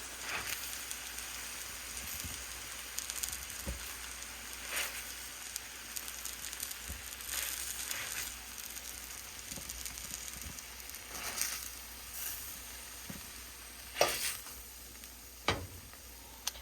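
Pork chops frying in a pan for a pork chop and potato casserole, giving a steady broadband sizzle with scattered pops and clicks, a few sharper cracks near the end, no voices.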